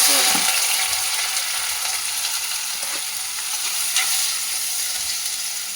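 Onions frying in a pan for a shark puttu dish, a loud continuous crackling sizzle with occasional clinks of a stirring utensil, close and steady throughout.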